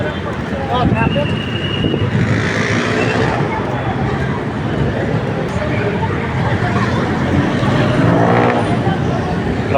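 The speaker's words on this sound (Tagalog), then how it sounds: "Traffic. Traffic sa baba." Busy street traffic at night in the Philippines, a steady broadband rumble of passing vehicles with wind buffeting the microphone and people talking over it throughout.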